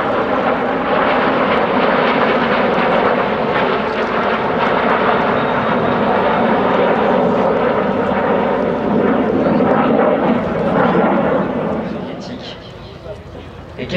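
A Messerschmitt Me262 jet fighter roars steadily during a display flight over Villaroche airfield, a loud, broad engine rush that holds for many seconds and then eases slightly.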